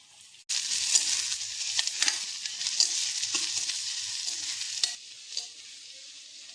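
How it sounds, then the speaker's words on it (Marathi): Finely chopped onions dropped into two or three spoons of hot oil burst into a loud, continuous sizzle that settles slightly softer after about five seconds. "आपला कांदा फ्राय होतोय"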